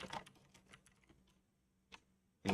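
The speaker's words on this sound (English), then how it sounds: "So here, I even type it in IRC." Computer keyboard keys tapped to type a chat message into IRC: a quick run of light clicks that fades, one isolated tap, then a louder burst of keystrokes at the end.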